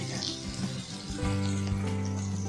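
Ridge gourd cubes sizzle and fry in a spiced tomato paste with red chili powder, a steady close crackle with stirring clatter throughout, no talking.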